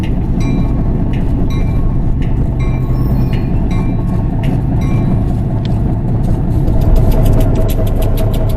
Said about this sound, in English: .1860 slowly approaches the roundhouse from one of the leads into the yard of the Transportation Museum.